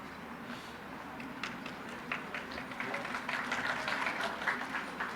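Applause from an audience at a medical college graduation ceremony in Peshawar, a rolling crowd clapping that swells toward the end, heard at a distance with some voices underneath.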